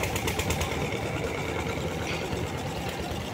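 A motor boat engine runs on the Godavari river, a steady, rattling mid-pitched drone heard fairly close and alone throughout.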